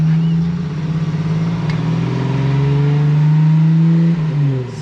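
A Jeep Wrangler YJ with a 4.0 engine accelerates, its loud, steady close-up drone rising in pitch as it pulls through the gears, with a brief dip at the end as the next gear engages.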